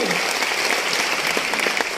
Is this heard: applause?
yes